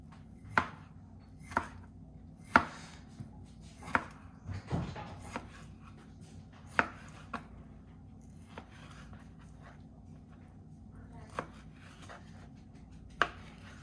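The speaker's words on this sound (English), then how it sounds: "So now let me show you how I cut the tuna." A knife chops yellowfin tuna into small cubes on a board, giving sharp isolated knocks spaced about a second apart with brief pauses between, set against a quiet room hum.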